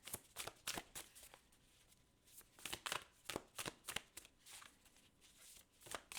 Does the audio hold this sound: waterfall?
no